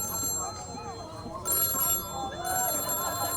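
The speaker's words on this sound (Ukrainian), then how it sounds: "О, хтось дзвонить." Telephone ringing in the indie horror video game Till Checkout Do Us Part, a soft electronic ringtone chiming repeatedly at low level beneath game ambience.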